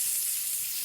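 Browning meat sizzles in a pot, a steady close hiss of frying without pauses or voices.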